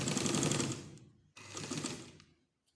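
A sewing machine stitches a frill onto a baby frock in two close runs of rapid, buzzing needle action, separated by a short pause, the second run fading to silence.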